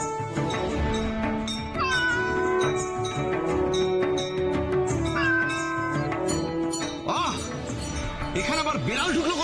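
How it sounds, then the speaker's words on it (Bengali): A cat meows repeatedly in a loud drawn-out wail during a drama scene, over background music, with voices talking alongside it. "এখানে আবার বিড়াল ঢুকলো কোথেকে?"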